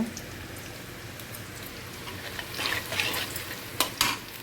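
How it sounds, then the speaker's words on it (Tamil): Onion paste poured into a hot pan for a fish fry curry, a low hiss that swells into louder crackling sizzle bursts toward the end, quiet overall with no talking. "இந்த சமயத்தில் நம்ம வெங்காயம் பேஸ்ட்டு ஊற்றிக்கலாம்"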